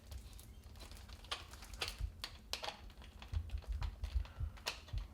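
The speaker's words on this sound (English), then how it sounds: "I've got my circle clamp on. I'm just going to begin to tighten it." Circle clamp tightened around an insulated washroom ventilation fan duct, giving a close series of quick, irregular ratcheting clicks and taps over faint low rumbling, with no talking.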